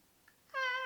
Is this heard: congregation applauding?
no